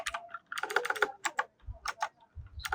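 Typing on a computer keyboard while entering text into an MS Word table, a quick uneven run of close key clicks with short pauses between bursts.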